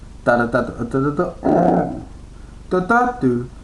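A human voice imitates a growling Cookie Monster with rough, gravelly vocal growls, delivered in a few close, loud bursts separated by short pauses.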